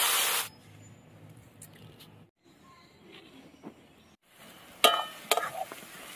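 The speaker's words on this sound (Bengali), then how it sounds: "এই যে সবজিগুলোকে একটু ভালো করে এবার ভেজে নেব" Vegetables fry in a hot pan for street-style egg fried rice, a faint steady sizzle with scraping stirs and a couple of sharp bursts near the end, close and without talk.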